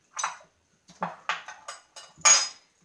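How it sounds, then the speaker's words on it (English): A spoon stirring an old-fashioned cocktail with bitters and bourbon in a glass, giving five or six short, close clinks spaced irregularly, the last one loudest, with silence between. "Stir it up."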